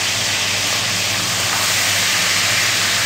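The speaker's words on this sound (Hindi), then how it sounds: "अभी हम इसमें साथ साथ प्याज डालेंगे," Onions hit very hot oil for homemade chicken biryani, giving a loud, steady frying hiss with no breaks.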